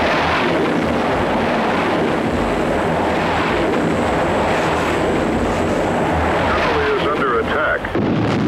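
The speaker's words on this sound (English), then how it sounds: "Explosions. There is small arms fire going off here and there around." Deep rumbling explosions and scattered small arms fire during an anniversary celebration in Libya, loud and continuous, with booming bursts over a dense roar and people talking in the background.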